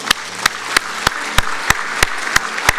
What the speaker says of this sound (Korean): 다시 한번 더 일어나셔서 이들을 박수로 축복합시다